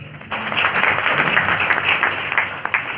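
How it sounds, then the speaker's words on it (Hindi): A short burst of applause from a small audience gathered for a practical introduction exercise, a steady patter of clapping hands that swells and holds briefly, close and fairly loud, with no talk over it. "जोरदार तालियां सर के लिए।"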